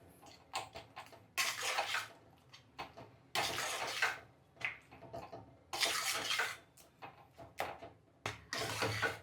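Jaggery Bombay Karachi halwa with ghee being stirred in a pan, giving repeated close scraping and sloshing strokes in uneven bursts, with no talking.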